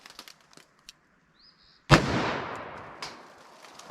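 A single .44 Magnum revolver shot with a 255-grain hard-cast bullet cracks loudly at close range after a short quiet lead-in, its sharp blast decaying into a rolling echo, with a faint click and a fainter follow-up sound later.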